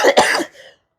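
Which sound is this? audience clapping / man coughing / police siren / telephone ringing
man coughing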